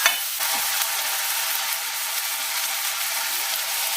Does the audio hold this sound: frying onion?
yes